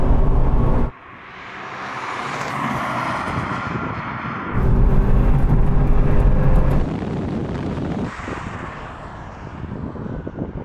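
A Toyota GR Yaris and a Mitsubishi Evo VI drag race: loud engines roar and rev hard with a shift break, then the roar fades as the cars pull away, with wind buffeting the microphone.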